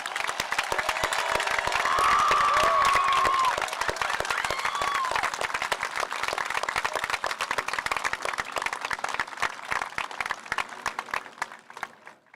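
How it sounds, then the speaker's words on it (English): Applause for 8th grade graduates at a middle school promotion ceremony, with dense clapping from a large audience and some cheering, fading out toward the end. "I present to you for one more round of applause our 8th grade graduates, the class of 2028."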